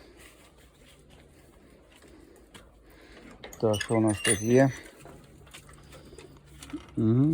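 Pigeons coo softly in a dovecote in the background while someone briefly speaks up close.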